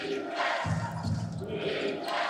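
A home crowd roars and cheers at a British Basketball League Championship game between the London Lions and Bristol Flyers, a dense arena swell filling the space with surging noise throughout.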